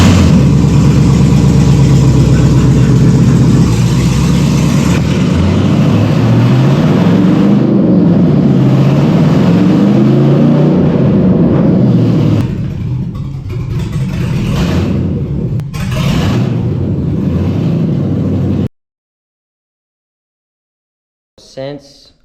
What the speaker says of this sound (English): There is no exhaust on it, so we're gonna start it with open headers